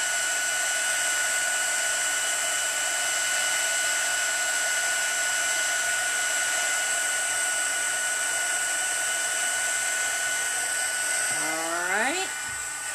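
A heat tool runs while melting embossing powder on a card, a steady, close high-pitched whine and blowing hiss throughout that winds down at the end.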